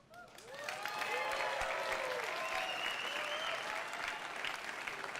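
Audience applause at the EA E3 2018 press conference, following the Unravel 2 reveal: a dense, sustained wash of clapping from a large crowd that swells within the first second and holds steady, with a few faint cheers mixed in.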